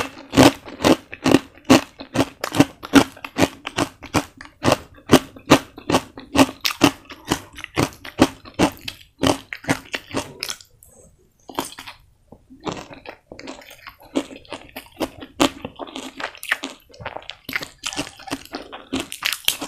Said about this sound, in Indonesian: renyah banget, gurih, renyah, oh enak